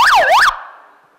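An intensive care ambulance siren gives a short, loud close-up wail, rising and falling twice before cutting off abruptly and leaving a brief fading echo.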